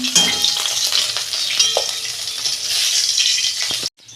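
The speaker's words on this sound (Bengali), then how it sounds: "আমি সব মাছগুলো ভেজে নেবো" Fish fry in hot oil with a loud, close, crackling sizzle and occasional utensil knocks, running steadily before cutting off abruptly near the end.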